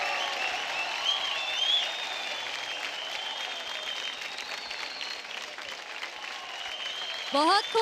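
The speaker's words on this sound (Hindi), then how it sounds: "जोरदार तालियां जैक के लिए" Sustained audience applause fills the hall for a dancer on a televised dance competition stage, a dense, even wash of clapping that holds loud and steady throughout.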